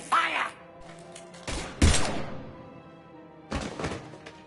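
Weapon fire and heavy impacts from a firefight in the video game Mass Effect Legendary Edition, three loud bursts of thuds and blasts separated by quieter stretches, with no one speaking over them.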